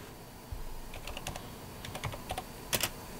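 Keys clatter on a computer keyboard in short irregular bursts, close and fairly quiet over a steady background hiss.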